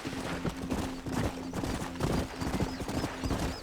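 Horse hooves clip-clop at a steady riding pace in the Red Dead Redemption video game, rhythmic and close, with a faint whinny and a continuous background hum.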